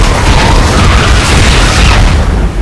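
A strobe cannon blast in the Pacific Rim Jaeger Combat Simulator video game, a loud, dense roaring burst that fills the whole moment and sustains before easing slightly at the end.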